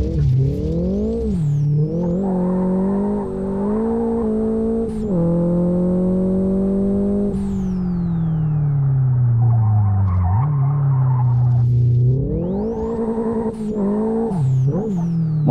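An Opel Astra 2.0 turbo skidding in Live For Speed, loud continuous tire squeal layered over a droning, shifting engine note that rises and falls with repeated revs throughout, no talk.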